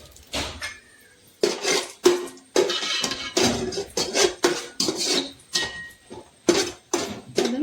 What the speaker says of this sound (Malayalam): ഇനി അണ്ടിപ്പരിപ്പ് ഇട്ട് കൊടുക്കാം.